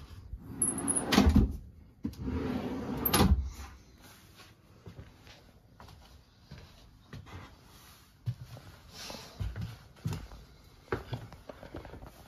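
Wooden clothes drawers in a converted school bus tiny home slide and bump shut a few times, with a couple of louder knocks early on and softer clunks and scrapes afterward, fairly close.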